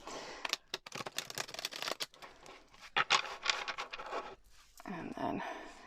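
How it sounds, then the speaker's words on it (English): A deck of tarot cards is shuffled close to the microphone. The crisp riffling and slapping bursts come in quick irregular runs with brief pauses between them. "Just going to shuffle this one more time."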